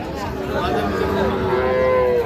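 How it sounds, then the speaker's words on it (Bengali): A Sahiwal bull calf at a rural cattle market gives one long, loud, close moo lasting about two seconds over a busy market background. "সাইওয়াল জাতের সার বাছুর"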